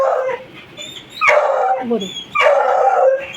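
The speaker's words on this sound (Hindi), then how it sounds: "क्यों भौंक रहा है, क्यों भौंक रहा है?" An excited leashed pet dog barks and yelps in loud close bursts, two sharp barks sliding into whimpering howls, while a person speaks briefly.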